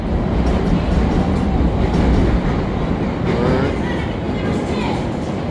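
A Chicago CTA train rumbles loudly and steadily at an elevated station platform, with close, continuous rolling clatter and wheel noise.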